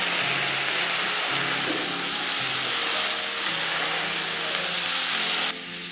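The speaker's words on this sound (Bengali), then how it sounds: "সবজিগুলো আমার ভাজা হয়ে গিয়েছে, এবার আমি এটা একটা পাত্রে তুলে নেব সবজিগুলো।" Vegetables frying in a pan with salt and turmeric for vegetable khichdi give a steady, close sizzling hiss over a low background hum, which drops slightly near the end.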